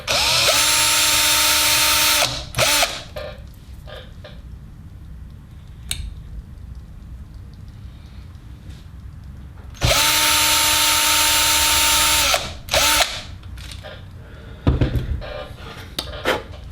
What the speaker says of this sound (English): make sure the drill is nice and square